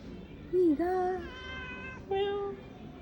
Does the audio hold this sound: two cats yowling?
yes